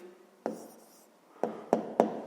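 Handwritten strokes as an answer is written down for a fifth-grade math exercise: four short, dry scratches, one early and three in a quick cluster near the end, close and quiet.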